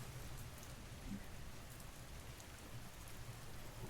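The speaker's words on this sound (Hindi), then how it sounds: "इस बारिश की आवाज को सुनते रहिए।" Steady rain falling at night, a dense, even hiss of drops on surfaces that holds constant throughout, fairly soft, with no voices.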